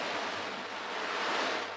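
An old ocean drum filled with dried chickpeas, dried peas or small pebbles is rolled, making a steady, close hiss that washes like surf, with no voices.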